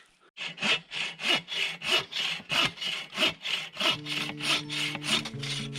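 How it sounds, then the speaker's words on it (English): Hand saw cutting through a downed tree on a backcountry trail near Agawa Canyon, about a dozen steady rhythmic rasping strokes close to the microphone, with a faint tonal hum joining toward the end. "This tree was down in the middle of the walkway, the trail, so we're gonna cut it all up"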